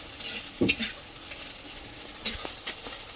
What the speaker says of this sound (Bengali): মাছ ভাজা তেলে দিচ্ছি